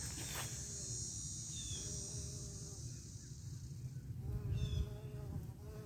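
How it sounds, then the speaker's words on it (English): Several bees buzz steadily nearby in a Florida garden in the morning, their drone swelling and fading as they pass close, with a low rumble in the background. "It looks like the bees are out this morning."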